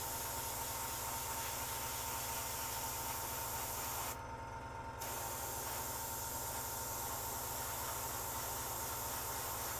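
A Meeden 0.5mm airbrush spraying, a steady faint airy hiss running throughout with a brief pause in the middle, no voices.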